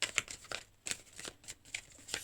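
Tarot cards are shuffled for a reading in a run of quick, crisp riffling flutters and soft slaps. The sound is close and fairly quiet, with no talk.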